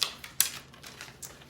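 The slide cutter on a vacuum sealer's bag roll runs across a plastic bag, producing a few sharp clicks and short scraping ticks close by, with quiet gaps between them.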